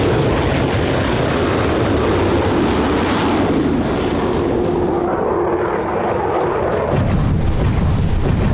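Fighter jet roaring overhead, a loud continuous broadband engine rush that swells and shifts, with no talk.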